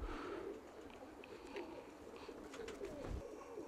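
A racing pigeon coos softly, faint low murmuring calls repeating over a quiet background.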